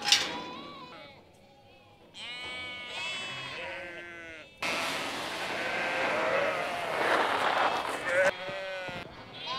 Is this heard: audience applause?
no